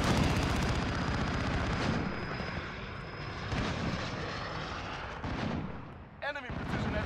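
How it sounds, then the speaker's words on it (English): Precision airstrike explosions in a Modern Warfare Domination match: a dense, loud barrage of booming blasts and rumbling aircraft noise that runs almost the whole time and eases off near the end. "Enemy precision airstrike. Inbound. Take cover."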